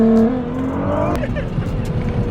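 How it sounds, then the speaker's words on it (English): Nissan GTR accelerating on the road, turbo whistle and engine tone climbing then dropping as the throttle lifts, loud from inside the car with a brief voice over it. "The turbo sound crazy, look."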